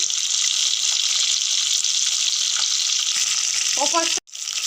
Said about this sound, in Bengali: ও পাশটা ভাজা হয়ে গেছে, আমি আবার উল্টে দিলাম।